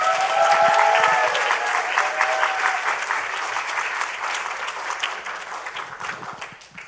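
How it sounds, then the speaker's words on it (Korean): A church congregation claps vigorously as a newly baptised woman comes forward, a loud, dense burst of applause that slowly thins and fades over several seconds. "우리 홍지혜 자매님 나올 때 우리 힘차게 박수해 주세요."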